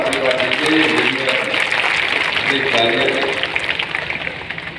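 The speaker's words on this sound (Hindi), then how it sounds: "एक बार जरा दिल से तालियां बजाकर तो आशीर्वाद दीजिए" A crowd claps at an outdoor election rally in Parsoriya, Naryaoli constituency, a continuous rolling applause that tapers off slightly toward the end, with voices blended into the noise.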